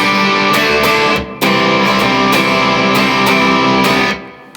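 Electric guitar plays the chorus with a distorted tone, strummed chords ringing steadily with brief breaks and sharp accents, loud and close with no talking.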